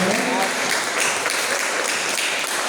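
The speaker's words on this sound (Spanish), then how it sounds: "¿Cuánto le dan un aplauso al Señor en esta noche?" Church congregation applauding together, a dense, loud, continuous wash of clapping that holds steady throughout without speech.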